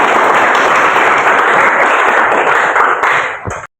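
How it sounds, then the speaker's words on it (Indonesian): Students in a classroom applaud together, a loud, dense burst of clapping that holds steady for several seconds before tapering off and cutting out. "Aplaus untuk kita."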